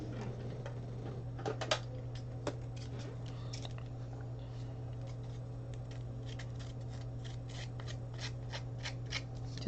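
Scissors roughing up the paper of an altered book's inside pages, a quiet series of small scraping, snipping and rustling ticks close by over a faint steady hum, no voices.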